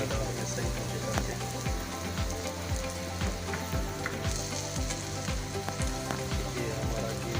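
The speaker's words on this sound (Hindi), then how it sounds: "ये पक रहा है हमारा पराठा" An aloo paratha fries in ghee on a pan with a steady sizzle and crackle, faint and continuous, and soft clicks and scrapes of handling come through now and then.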